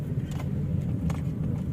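Steady low rumble of car traffic crawling through a busy, congested market street, with engines idling and moving at a moderate distance, no voices.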